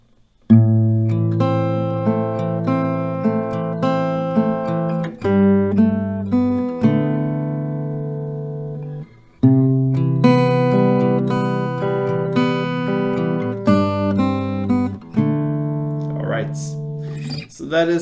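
Acoustic guitar picking pattern for a song, with clear individually plucked notes ringing out in a repeating round. It sounds close and clean, played alone with no talking.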